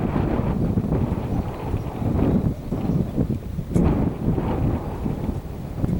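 Wind gusting across an open field on a windy day, steady loud rumbling buffeting against the microphone for the whole stretch with no voices.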